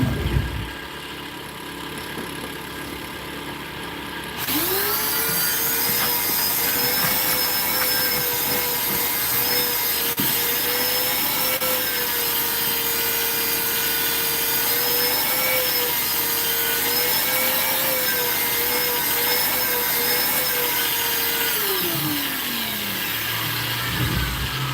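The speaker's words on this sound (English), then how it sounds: "I'm going to go ahead and hit it with some more abrasive. I think this is 120." A spinning wooden workpiece is sanded with 120-grit abrasive. A steady whirring hum rises sharply after a few seconds of quieter machine noise, holds a sustained rubbing tone, then winds down near the end.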